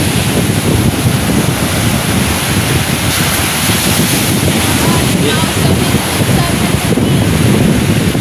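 Big ocean waves crash in a continuous loud roar of surf, with heavy wind buffeting the microphone throughout.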